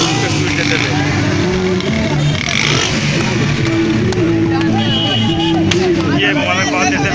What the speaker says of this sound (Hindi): ये नौजवान खुशी के अंदर गाड़ी के सिलेंसर को स्पीड देते थे।